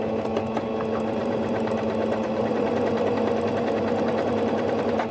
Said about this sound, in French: Et je vais venir le coudre comme ceci.